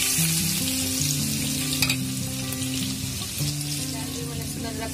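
Onion frying until brown for a lauki kofta gravy, a loud, dense, continuous sizzle with occasional faint stirring, and steady background tones running beneath.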